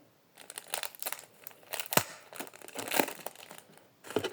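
A small piece of adhesive tape is handled while making a homemade squishy toy, giving close crinkling and rustling with sharp peeling snaps in irregular bursts and no talk.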